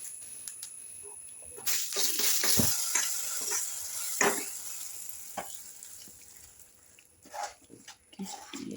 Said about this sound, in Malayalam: വെളിച്ചെണ്ണ, കടുകിടാം.